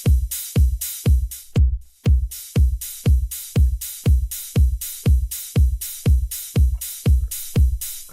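A programmed drum pattern in Cubase, a hi-hat sample layered with a punchy kick, repeating in a tight even rhythm of about two hits per second, loud and dry with no voices.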